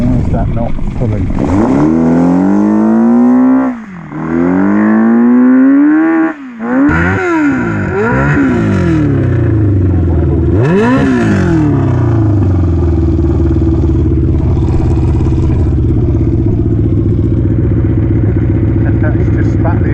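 A loud Yamaha Fazer 600 motorcycle engine revs up and down repeatedly, with rough sputtering as the exhaust blows off, then settles into a steady idle.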